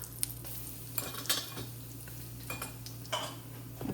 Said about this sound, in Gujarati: જીરું, થોડી હિંગ, હવે થોડી હળદર નાખી દઈશું.